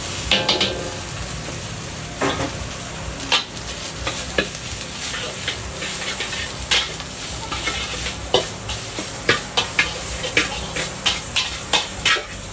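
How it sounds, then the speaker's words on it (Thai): Quail is stir-fried in vegetable oil in a pan for a Chanthaburi-style dish with cumin leaves. The oil sizzles steadily throughout while a spatula scrapes and clacks against the pan in a quickening rhythm, close up, with no talking. "ใส่น้ำมันพืชลงไปนะ แล้วเราก็เอานกเข้าไปคั่ว"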